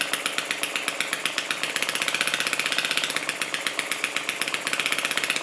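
A Lister D model single-cylinder diesel engine running steadily, a rapid even chuffing beat with rhythmic exhaust pulses, close and loud, the pace picking up slightly midway, no voices.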